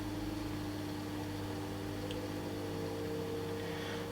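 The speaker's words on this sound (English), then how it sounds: "I could close this lid now, and it'd start the fan." A Ninja air fryer's fan runs steadily with its lid closed, a constant whirring hum with faint hiss, near and unchanging throughout.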